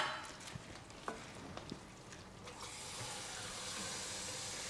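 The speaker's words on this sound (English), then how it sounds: "just pour it in, just to get the rice half cooked" Water is poured into a pot of arborio rice to half-cook it, a steady close splashing stream with some brief clatters early that settles into a continuous rushing pour.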